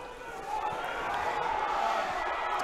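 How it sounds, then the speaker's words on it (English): A home crowd at a Hawick vs Watsonians rugby match grows restless, a steady distant roar of voices rising slightly, with commentary talking over it. "The home crowd are getting a little bit angry at something"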